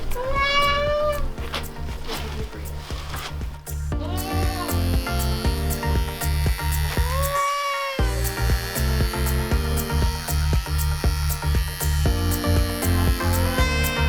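Electric clippers buzz steadily while trimming hair on the head of a young buck goat a few weeks old before disbudding. The baby goat bleats repeatedly over the hum.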